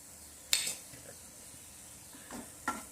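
Red chili is stirred into a raw mango curry in a pan: a quiet background sizzle broken by a few sharp spoon scrapes, one early and two close together near the end.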